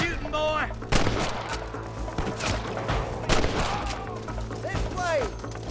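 Red Dead Redemption gunplay crackles with repeated sharp rifle and pistol shots at an uneven pace, mixed with shouting voices and whistling ricochet-like sweeps.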